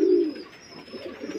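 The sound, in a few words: pigeons cooing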